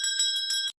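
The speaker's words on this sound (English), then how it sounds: "We have a little bell here," A small meeting bell rings clearly and close at hand, with a few quick bright strikes that shimmer briefly before stopping abruptly.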